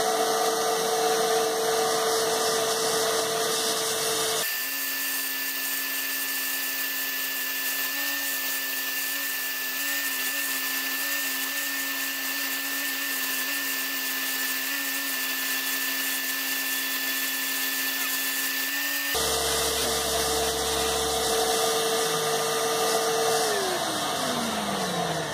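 A belt grinder runs a Cubitron 2 abrasive belt, a steady high whine with a broad grinding hiss that rises sharply in the middle stretch as the workpiece is pressed hard, then drops back to the lighter running tone.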